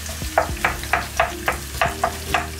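Onions frying in a pot for okra soup, with a steady sizzle under a series of about nine regular stirring or scraping strokes, close and moderately loud, with no talking.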